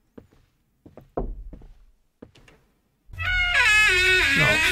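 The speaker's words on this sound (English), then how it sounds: "Wait, what is that knocking sound?" Knocking in the horror video game Mirror, Mirror: a few sparse, dull knocks with pauses between them, then a sudden loud, harsh, sustained tonal blast that fills the rest of the moment.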